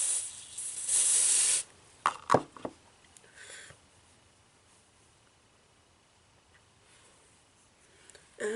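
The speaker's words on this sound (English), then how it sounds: "Okay, spray some more." A makeup setting spray gives a loud, steady hiss that lasts about a second and a half, followed by a few soft clicks and handling sounds, then near silence.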